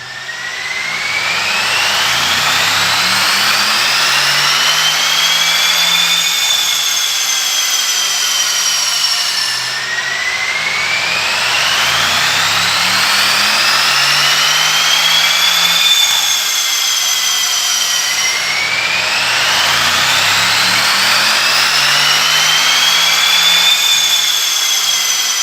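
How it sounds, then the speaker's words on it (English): A Mercedes-AMG E63 engine revs hard on a dyno, three long loud full-throttle runs with pitch sweeping steadily upward, each cut off briefly before the next, with no talk. "I'll tell you what, Affy, that AMG just sounded epic running up on the dyno, didn't it?"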